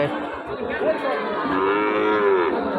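Cattle moo over a crowded livestock market where local-breed bull calves are sold. Several long, tonal bellows rise and fall close by, with murmuring chatter underneath.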